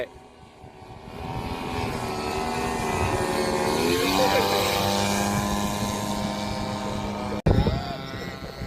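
A Thai RC model plane, a PC6 with a 40cc agricultural engine or a Piper with a 10cc engine, drones steadily at a flying field as it comes in to land, rising slightly then cutting off abruptly near the end, with a voice talking over it.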